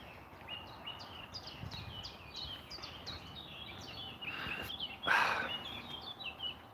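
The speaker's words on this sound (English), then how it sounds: "You can hear the birds chirping." Birds chirping in German woods during an outdoor walk, a run of repeated short chirps at a moderate distance over soft rustling background, with a louder burst near the end.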